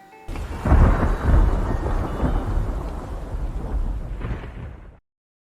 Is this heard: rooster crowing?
no